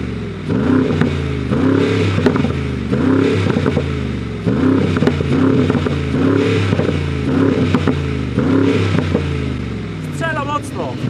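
Keyvany-tuned car exhaust revving toward 4000 rpm, repeated throaty rev cycles rising and falling about every two seconds with crackles, close and loud, and someone speaking over it.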